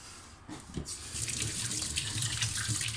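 Hands are washed under a running kitchen tap, a steady, close hiss of flowing water with soft splashing that grows fuller after the first second, with no talking.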